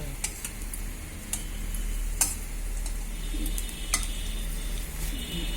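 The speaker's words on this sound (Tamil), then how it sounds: "இப்போ அடுத்தது பூண்டு வதங்கினது போதுமா இப்போ வெங்காயத்தோட சேர்த்து கொஞ்சம் வதங்கும்" Low, steady sizzle of garlic and onion sautéing in a pan, with a few sharp clicks and scrapes of stirring scattered throughout.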